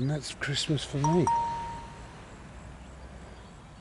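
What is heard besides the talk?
phone alarm going off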